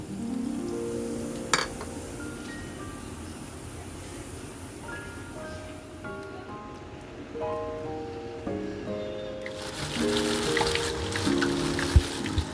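Water poured into malpua batter made with palm fruit and Eno: a soft, close trickle and dribble with light clinks, running continuously and growing a little louder toward the end.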